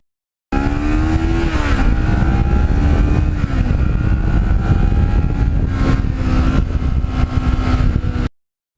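A Kawasaki Ninja motorcycle on Michelin tires riding at speed, its engine roaring loud and close with a steady high drone and rising and falling revs, plus wind rush, until it cuts off abruptly.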